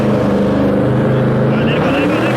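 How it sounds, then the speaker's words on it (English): A toy remote control car spins its wheels in a burnout, giving a loud, steady, buzzing motor whine that fills the whole stretch without a break. "Hold it to make it burn out."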